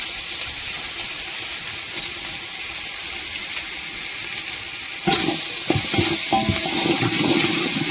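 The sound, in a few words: sautéing tomato with rock salt for fish curry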